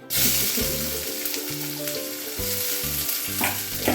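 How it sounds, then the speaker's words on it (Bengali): Onion hitting hot oil with cardamom, cloves and cinnamon for a mutton kosha, sizzling loudly and steadily throughout, with a few clinks of a utensil and no talking. "একটুখানি পেঁয়াজ দিয়ে দেবো এতে"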